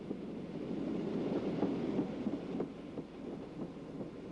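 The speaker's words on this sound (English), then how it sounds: "Here the train is approaching the top of the climb after Glenfinnan, the last part being 1 in 70." A train labours up the steep 1 in 70 gradient after Glenfinnan, a steady low rumble with faint rhythmic clatter of wheels and some wind buffeting, heard from a moderate distance.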